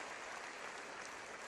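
A Purdue Boilermaker home crowd at a college volleyball match against Minnesota applauds an injured player as she walks off, a steady, distant wash of clapping with no voices standing out.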